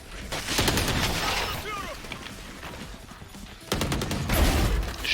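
Gunfire in the shooter game Valorant, rapid bursts of automatic shots at the start and again near the end with quieter game sounds between, while players talk excitedly.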